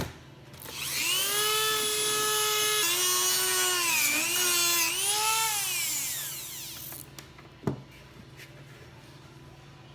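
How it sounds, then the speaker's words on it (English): A high-pitched rotary power tool whines steadily as it cuts into a Jeep's plastic inner trim to fit an iPad mount, its pitch wavering under load for several seconds before stopping, followed by a single sharp knock. "So I'm cutting the inner trim to accommodate our iPad kit."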